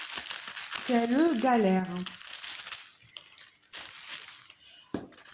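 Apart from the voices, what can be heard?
opening packaging of a black scratch-art canvas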